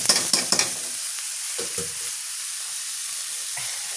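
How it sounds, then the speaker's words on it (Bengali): Chopped papaya frying in ghee with cinnamon and bay leaf, a loud close sizzle that hisses steadily after a few quick spatula scrapes at the start. "এটা এখন আমি ভালো করে একটু ভেজে নেব কিছুক্ষণ।"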